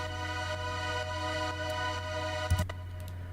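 Layered string synth pads with a bright analog noise oscillator on top, a steady sustained chordal tone with a hiss layer, interrupted near the end by a couple of brief clicks.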